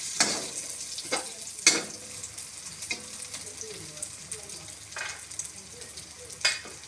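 Egg with vegetables fries in hot oil, giving a continuous close sizzle with occasional sharper crackles and stirring scrapes.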